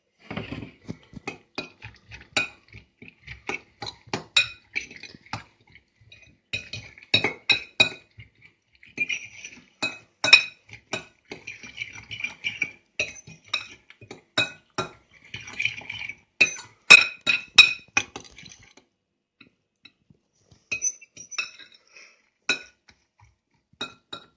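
Omelette ingredients are stirred in a bowl with a utensil, giving repeated light clinks and scraping taps in irregular bursts, close and fairly quiet, with no talk.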